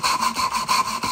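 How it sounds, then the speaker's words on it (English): Hand sanding of wood to fit a box lid gives quick, rhythmic back-and-forth rasping strokes, close and steady, about six strokes in a second with no voices. "Doing a lot more of this sanding malarkey to try and get everything to fit."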